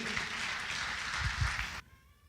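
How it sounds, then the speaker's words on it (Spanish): A church congregation at a sermon gives a short burst of dense clapping for the Lord, then it cuts off abruptly into near silence. "Alguien le da un aplauso al Señor."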